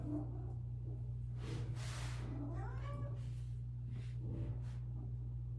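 Female cat in heat meowing indoors, a few drawn-out, wavering meows and yowls spread over several seconds, close by, over a steady low electrical hum, with no talking.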